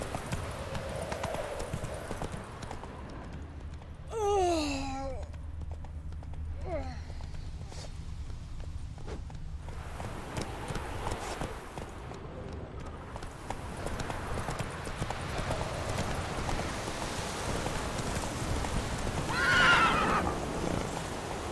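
Roach, a horse in The Witcher 3 video game, gallops with steady clip-clop hoofbeats while sharp neighs and whinnies ring out near the start, over a constant game ambience.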